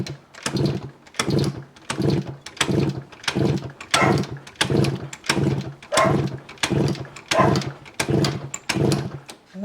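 A 1968 Yamaha YAS1C 125 twin motorcycle being kicked over with the throttle held open, about a dozen evenly spaced rhythmic cranking strokes, close and loud, with no firing.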